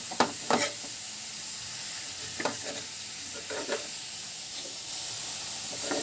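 Vegetables fry quietly in a pan for egg Hakka noodles, a soft continuous sizzle and hiss broken by a few brief stirring scrapes and clinks.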